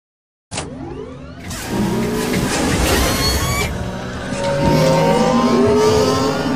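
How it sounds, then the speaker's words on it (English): A speeder engine from a Lego Star Wars stop-motion chase, starting abruptly after silence and holding a loud, steady whine with a rising pitch sweep, like a racing vehicle revving past. "Boba Fett is escaping on a speeder."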